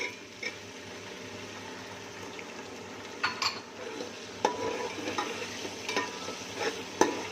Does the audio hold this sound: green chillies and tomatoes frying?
yes